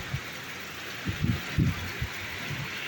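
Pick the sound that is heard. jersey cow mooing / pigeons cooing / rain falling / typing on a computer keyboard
rain falling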